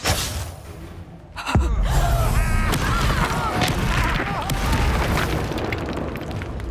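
A spell in Hogwarts Legacy detonates with a sudden heavy boom, then a sustained roaring rumble of blasts and debris fills the rest of the moment, loud and close.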